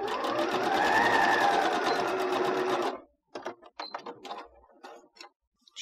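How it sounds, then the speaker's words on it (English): Sewing machine running steadily for about three seconds while stitching a seam near the edge of a fabric face mask to form a nose bridge pocket, then stopping, followed by a few faint clicks and handling sounds. "just sew about 3/8 of an inch from the edge of the fabric right along here"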